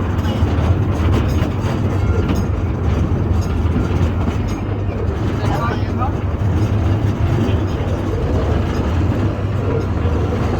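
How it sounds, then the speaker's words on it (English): A small tourist train rumbles steadily along its rails in Wimberley, Texas, a loud continuous clatter with faint voices mixed into the noise. "riding the train"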